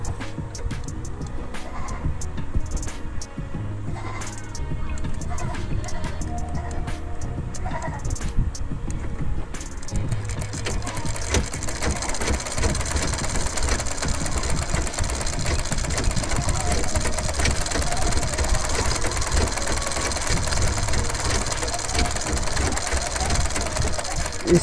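Industrial buttonhole (kaj) sewing machine stitching cloth in a tailoring setting, a continuous loud mechanical whir that steadies into a dense rapid chatter, with someone talking over it.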